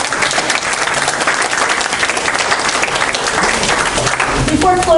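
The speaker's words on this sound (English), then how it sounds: "Let's give them a round of applause." Loud, dense applause fills a legal professionalism symposium hall, steady clapping from a seated audience holding at full strength for the whole stretch, swelling slightly at the end.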